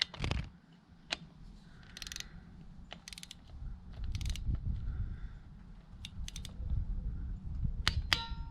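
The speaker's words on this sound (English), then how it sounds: "So using the torque wrench, I've already set it to 20, well just under 22." A torque wrench ratcheting while tightening the oil drain bolt on a Benelli TNT 125 motorcycle, giving several short, close clicking bursts over a low steady background hum, no talk.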